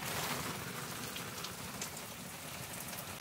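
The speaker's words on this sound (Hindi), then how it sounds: "रास्ते में आधे रास्ते पहुंचा था कि खतरनाक बारिश स्टार्ट हो गई" Heavy rain pouring down steadily, a dense even hiss of drops on surfaces with no voices.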